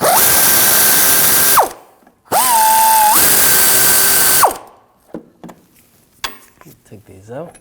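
Two loud, sustained whirring bursts of a power tool, most likely an impact tool, turning 18mm nuts and bolts on the rear driveshaft coupler of a 2007-2013 BMW 328i 3.0L L6. The second burst has a shifting pitch, followed by quieter clinks and handling noises.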